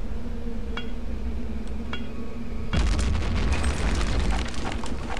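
Grenade blast in the video game Return to Castle Wolfenstein: after a low humming stretch with a couple of faint clicks, a single loud boom bursts in midway and rolls on into rumbling debris and crackle.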